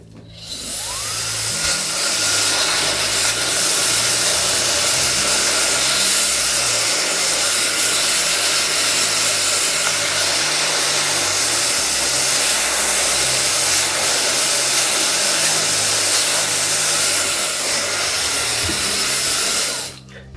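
A hair dryer blows steadily on a French lace hair system, a loud, close, continuous roar that starts up, runs unbroken for about eighteen seconds, then cuts off.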